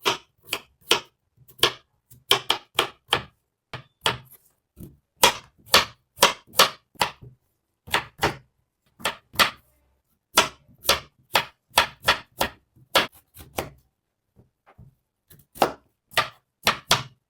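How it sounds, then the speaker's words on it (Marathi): Carrot, beetroot, potato and cauliflower being chopped for pav bhaji, a knife striking a cutting board in sharp, close, rapid clusters of chops separated by brief pauses, with no talking. "हे व्हेजिटेबल आपण पूर्ण कट करून घेऊया"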